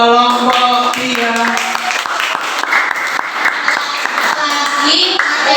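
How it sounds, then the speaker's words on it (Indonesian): Applause for a student group in a classroom teaching-practice session, with steady clapping filling the clip under tonal music or singing and some children's voices. "kita sekali lagi beri tepuk tangan untuk kelompok 3."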